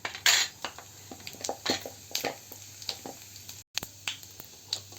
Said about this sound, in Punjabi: ਆਇਲ ਆਪਣਾ ਗਰਮ ਹੋ ਚੁੱਕਿਆ ਇੱਕ ਚਮਚ ਆਪਾਂ ਜੀਰੇ ਦਾ ਪਾਣੇ ਆ